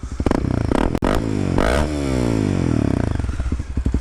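A loud, close 2015 Honda CB300F motorcycle engine with its exhaust baffle removed, idling with a raw, throaty exhaust rumble and a few quick revs.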